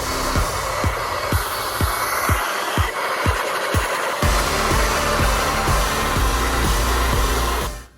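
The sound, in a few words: blow dryer on high heat drying hair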